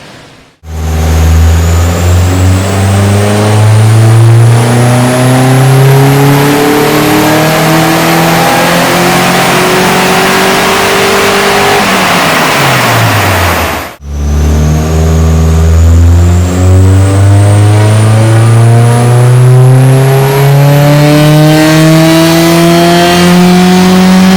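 A supercharged Toyota Starlet with a custom exhaust revs hard during tuning. Loud rising engine sweeps climb steadily, cut out abruptly around the middle, then build again in a second long rev, with no talking.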